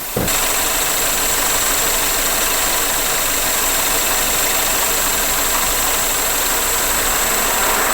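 A Chevrolet Alpheon 2.4 engine with a misfire idles steadily and loudly nearby during injector cleaning, a continuous even drone with a faint high whine, running throughout without pause.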